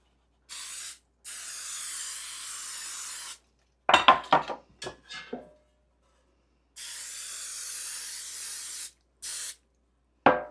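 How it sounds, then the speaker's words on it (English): Cooking spray hisses in several bursts, long and short, onto baking pans, with pans clattering and knocking in between. "I'm going to spray these."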